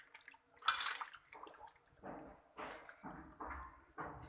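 Ojri, beef tripe, is washed with water by hand, giving uneven splashes and sloshing in short bursts, close and moderately loud, with brief pauses between.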